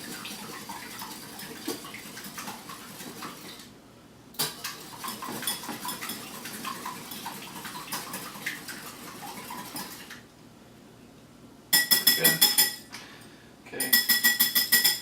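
Lupin mug bread batter being whisked in a mug, rapid clinking strokes of a utensil against the sides in steady bursts, close and fairly quiet, pausing briefly and then returning in louder, sharper spells.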